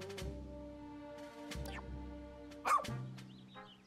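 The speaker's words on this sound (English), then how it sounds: "Bark." A single exaggerated cartoonish dog bark from the video game Pikmin 4, sounding over game music with harmonic tones, a short loud burst near the end.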